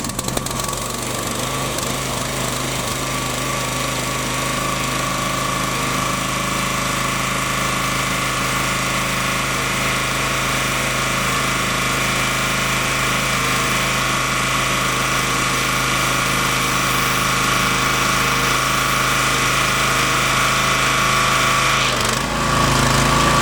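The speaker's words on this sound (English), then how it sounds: "So basically I would turn the engine on, fuel is still on, the throttle's still up." A Hyundai HYW3000P2 2800 PSI petrol pressure washer engine runs steadily at close range, a loud, even mechanical drone with a constant buzzing rattle that holds throughout, then shifts briefly near the end.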